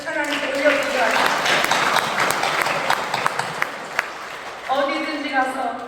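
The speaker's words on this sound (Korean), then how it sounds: "한 번 더 세비 찬양단의 격려의 박수를 하나님께 올려드리기 바랍니다" A church congregation applauds its praise team with a broad burst of clapping, while a voice speaks over it near the start and again toward the end.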